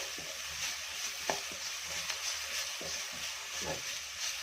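Green chillies fry in a pan with a soft continuous sizzle and a few light clicks of a spoon, close and quiet, without any speech.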